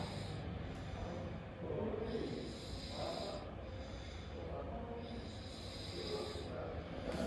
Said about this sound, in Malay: Siap berdengkur lagi.